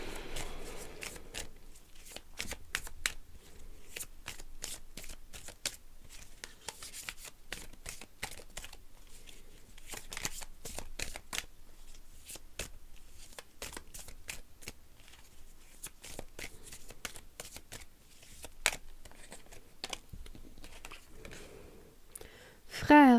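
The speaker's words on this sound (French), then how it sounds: "j'utilise ici l'oracle de la triade" Oracle cards for a tarot reading are shuffled in soft, rapid riffling and flicking bursts that recur steadily throughout, fairly close but quiet, with a brief louder handling at the end.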